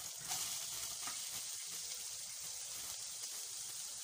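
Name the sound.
frying ginger garlic paste in a pan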